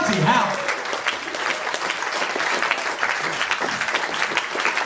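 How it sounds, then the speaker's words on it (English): Loud, dense audience applause fills a comedy show venue throughout, a steady wash of clapping with a voice briefly audible at the start. "If you're clapping now"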